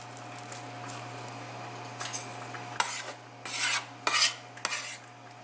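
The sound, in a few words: mixing and kneading pierogi dough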